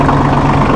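Massey Ferguson 1740E Synchro-Shuttle compact tractor engine running at a steady idle-like throb, loud, close and continuous low rumble with vibration for a brief moment.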